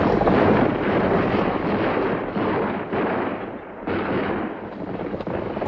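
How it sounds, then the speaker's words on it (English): Dense, rapid gunfire and blasts from a western film scene crackle continuously, loud and chaotic, with irregular bursts overlapping in a sustained barrage. "Notice how frequent yet random the gunshots are."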